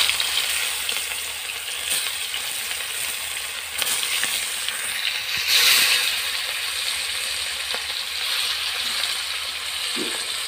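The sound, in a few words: rohu fish pieces frying in hot oil in a wok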